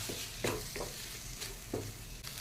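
Spices with turmeric, pepper, coriander, ginger and garlic sautéed in a pan, a soft steady sizzle with a few scraping stirs, close and moderately loud.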